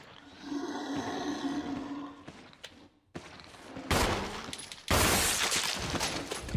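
In a Resident Evil game, gunshots fired at zombies crack loudly in a few sharp bursts, mixed with growling and roaring from the creatures and a brief shattering clatter.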